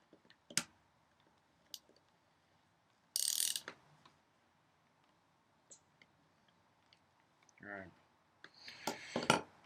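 A ratchet tightens bolts during the rebuild of a Royal Western Chief blower, with isolated clicks and a few short ratcheting runs, close and fairly quiet, amid small metal clanks near the end.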